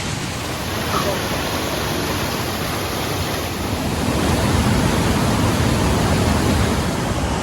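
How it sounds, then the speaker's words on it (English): Steady rushing of a small side waterfall in the Ouachitas, a dense, unbroken roar close by that swells slightly louder partway through. "Very impressive little side waterfall here."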